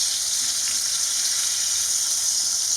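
Bacon sizzles steadily in a hot frying pan with a bright, dense hiss and crackle, close and constant, with no voices.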